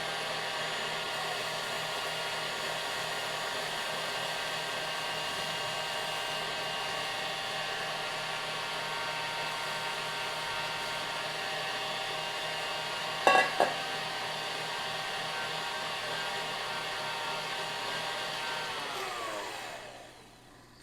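Electric mixer whipping cream to peaks for a strawberry praline dessert, a loud steady motor whine holding for about twenty seconds with a brief clatter midway, then the pitch sliding down as it switches off.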